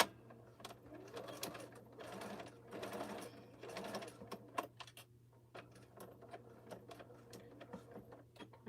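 A sewing machine stitches an opening closed on a boxy bag with D-rings, running in steady bursts of rapid needle clatter over a low motor hum, close by and fairly quiet, with brief pauses between runs.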